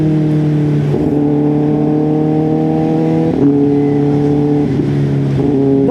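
A stage 2 tuned Kawasaki ZX10R sportbike being ridden, its engine holding steady loud tones with several distinct shifts in pitch, close and continuous, with no talking.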